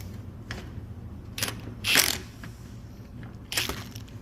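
A ratchet turns a 24 mm Olsa Tools swivel socket, giving a few scattered metallic clicks and one louder ratcheting burst, close and faint over a low background hum.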